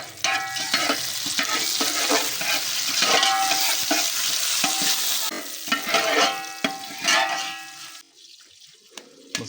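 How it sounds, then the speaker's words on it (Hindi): Whole spices such as cinnamon, star anise, green and black cardamom and black pepper crackling in hot oil in a pot, a dense steady sizzle with stirring scrapes, close up, easing off near the end. "ऑयल के गर्म होने के बाद हम इसमें खड़े मसाले डाल लेंगे"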